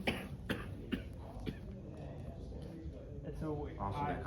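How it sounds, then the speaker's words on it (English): A person coughs several times in short, sharp bursts during a grappling or jiu-jitsu session, mixed in with talking and the shuffling of bodies on a mat. "that's just me coughing."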